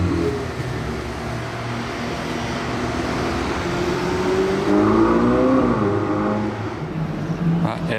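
The engine of a Koenigsegg Jesko supercar grows louder as it approaches from a distance in Monaco, its pitch rising and swelling over steady background road noise.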